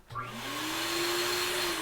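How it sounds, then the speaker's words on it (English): A dog-grooming fluff dryer spins up with a rising whine, then settles into a steady loud blowing roar with a sustained tonal hum. "this fluff dryer can also be used as a force dryer"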